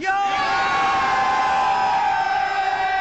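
Cricket fans at the 2015 World Cup match between India and Bangladesh raise a loud, sustained roar for India, a steady wall of yelling threaded with droning, horn-like tones that hold without a break.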